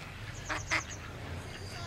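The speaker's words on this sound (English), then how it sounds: "Here's a beggar duck." Duck perched on a castle railing by the English coast, giving two short quacks close by over a low background hum.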